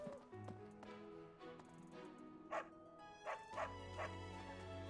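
A hound in the video game Fire Emblem Three Houses gives a few short barks and yips over soft background music, spaced a second or so apart near the end.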